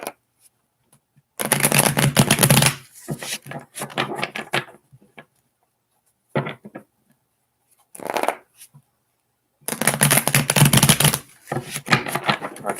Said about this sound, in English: Okay, you have 2 more shuffles, Ashley.